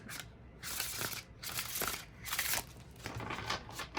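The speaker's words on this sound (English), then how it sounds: "the more I kind of riffle shuffle it or shuffle the opposite direction, the more that bend is coming out of the deck and out of the cards" Tarot cards riffle shuffled over and over, a dense crackling flutter of card edges in close bursts separated by brief gaps, with no voices.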